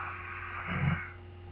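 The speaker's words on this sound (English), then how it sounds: "we're going to be tightening up the back of our throat and breathing in through it." A soft, breathy inhale drawn through a tightened throat in Ujjayi-style breathing, a single faint raspy breath that rises and eases off over a low hum of background noise.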